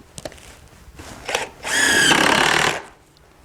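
A power drill drives screws through a 3/4 inch plywood sheet into a building during an exterior door installation, a few short clicks and bursts, then one loud close whirring run of about a second, with no talking.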